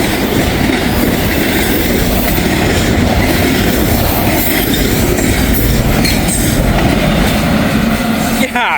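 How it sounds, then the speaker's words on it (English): A long freight train, 29F, passes close by in Walton, Kentucky, a loud continuous rumble of rolling cars with rhythmic clickety-clack and occasional wheel squeal that never lets up. "That was one big train."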